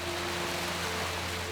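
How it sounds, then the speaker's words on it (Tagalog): Steady dense hiss of heavy rain pouring on a school, continuous and even throughout with a low hum underneath. "biglang bumuhos ang malakas na ulan."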